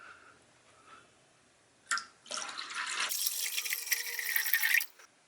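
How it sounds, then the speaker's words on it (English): Water runs from a tap into an ultrasonic vinyl record cleaning tank, starting with a few drips and then becoming a steady, close splashing pour that stops abruptly. "I'll fill up the tank"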